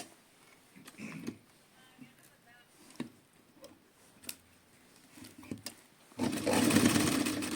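A sewing machine stitches lace onto a chunni in short separate bursts with quiet gaps, then runs in a longer, louder continuous whir near the end, heard up close.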